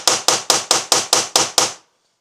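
Eight sharp, evenly spaced metal hammer blows strike a seized fuel injector in a BMW E36 Turbo engine, loud and close, with no talking.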